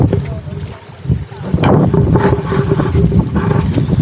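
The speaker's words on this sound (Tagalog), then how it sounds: "Lakas ng hangin yo" Strong wind blows hard across Taal Lake, buffeting the microphone with a loud, continuous roar and rumble. The gusts swell and ease, close and overpowering.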